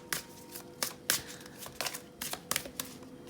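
Tarot cards being shuffled by hand, a series of quick crisp riffling bursts in an uneven rhythm, close and fairly quiet.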